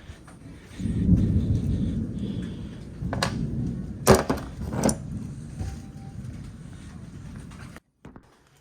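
Distant thunder rumbles low and steady as rain approaches, with a few sharper cracks partway through and a brief pause near the end, no voices.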